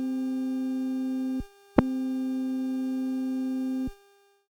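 Stylophone GEN X-1 synthesizer with its controls turned down, playing a steady, bright buzzy tone with a strong harmonic series that cuts out twice, broken by a sharp click, then stops, leaving silence.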